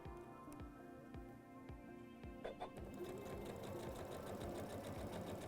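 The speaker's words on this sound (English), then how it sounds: "Now we're going to go ahead and sew down the other side." A Janome sewing machine fitted with a zipper foot stitches along a zipper with a rapid, steady mechanical thumping and whir, close and continuous, picking up slightly in pace toward the end.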